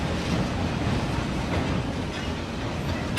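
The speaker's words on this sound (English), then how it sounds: "A train is running on two different tracks." A steady, dense rumble of a train rolling along the tracks, continuous and fairly loud with a faint rhythmic rattle throughout.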